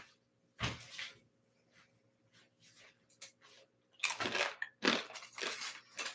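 Crunchy fried tofu is bitten and chewed close up in a home kitchen, giving a few sharp crunches in separate bursts between quiet gaps.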